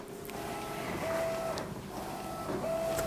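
Epson P900 printer feeding out a large fine art photo print, a steady mechanical hum with tonal whirring that rises and pauses as the print head moves, close and alone.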